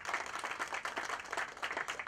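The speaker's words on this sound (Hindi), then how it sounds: "मैं चाहूंगा जोरदार तालियां बजाएं।" Faint crowd applause, a steady patter of many hands clapping at a distance.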